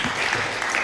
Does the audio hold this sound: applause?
yes